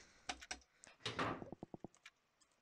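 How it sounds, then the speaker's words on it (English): Locked door in the horror game Paranoiac rattling without opening: faint knocks and a scraping shove, then a quick series of five sharp handle rattles, quiet and close. "This door didn't open."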